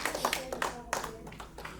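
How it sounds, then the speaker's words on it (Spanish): A church congregation clapping hands in praise, scattered irregular claps mixed under ongoing talk, fairly close and moderately loud. "Dale un aplauso al Rey de la..."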